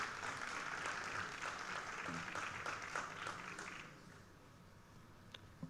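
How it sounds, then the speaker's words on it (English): A round of applause at a national chartered accountants' conference, fairly faint and steady for about four seconds before fading into quiet room tone with a couple of stray claps. "please give a huge round of applause for them"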